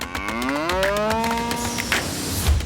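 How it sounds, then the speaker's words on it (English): An Angus bull moos loudly and close, one long drawn-out low call with a rising, wavering tone, heard alone without talk. "Angus cow, here it is. I got a man crush on that bull."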